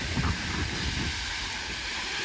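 Strong, steady wind roars across the microphone at a beach cove in Çeşme, blending with a broad rush of surf, loud and continuous throughout.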